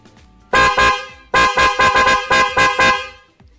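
A Corsa V3 disc-type horn on a motorcycle gives a burst of loud, close honks: one long blast, then a quick run of short beeps with brief gaps between them.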